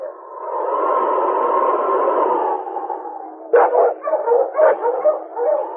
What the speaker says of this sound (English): Monk Wessel's dogs were fighting among themselves